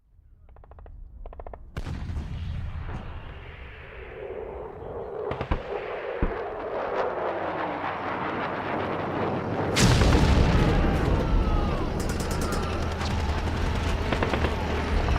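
Radio drama effect of approaching tanks amid artillery fire: sharp booms and blasts building into a loud continuous rumble of explosions and crackling fire, growing denser over time.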